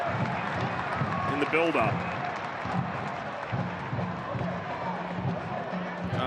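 A football crowd at a Louisville City FC v Rio Grande Valley FC match roars in a steady, dense wash of noise, with a commentator talking over the stadium din throughout.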